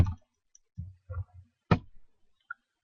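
Computer mouse clicking while making a new folder on a desktop: a few sharp, close clicks spaced irregularly, with short quiet gaps between them and no voices.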